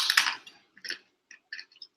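Crunchy food being chewed close to the microphone: a loud first crunch, then a few sparse, quieter bites and clicks with no speech.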